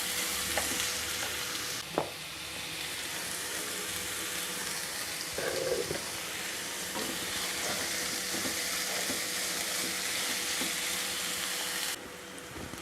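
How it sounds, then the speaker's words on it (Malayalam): Onion and salt sautéing in a pan for Kerala beef varattiyathu, with a steady close sizzle and occasional stirring scrapes and clicks throughout, no talk. "സ്വല്പം ഉപ്പും കൂടെ ചേർത്തിട്ട് വഴറ്റിയെടുക്കാം"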